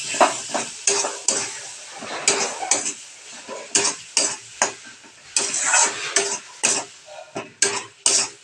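Taro paste with hilsa fish is stir-fried in a pan: a spatula scrapes and clatters against the metal in quick, uneven strokes over a constant sizzle, close and loud, with no talking.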